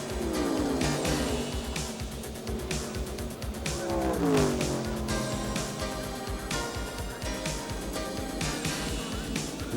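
Race cars at the 1988 Daytona 500, engines roaring at high revs, with tires squealing and pitch sweeping as cars slide and pass, loud and continuous with a crowd-like wash beneath.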